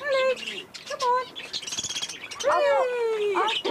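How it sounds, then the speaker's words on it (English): Several pet birds chirp and tweet close by in a home, bright repeated calls with squawky bursts, while people talk nearby. "she had a couple of birds, yeah. Look at them all in there"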